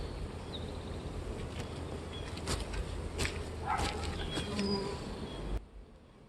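Honeybees buzzing around a hive fitted with a propolis trap, a dense steady drone with individual bees zipping close past, cut off abruptly near the end.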